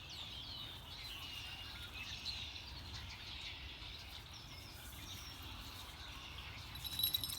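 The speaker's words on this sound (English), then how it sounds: "Sounds like we've got a whole bunch of red winged blackbirds in the wetland behind our pond." A large flock of red-winged blackbirds calling from dried cattails in a wetland behind a pond in late October, a faint, distant, continuous chorus of chirps over a quiet outdoor background.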